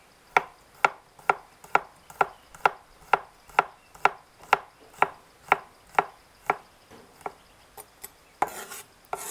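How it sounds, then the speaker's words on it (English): A knife slices through shallots and garlic on a cutting board in a steady, even rhythm of about fifteen crisp close chops, the pace slowing slightly toward the end, with no talking. "We will begin with slicing shallots. And then move on to garlic."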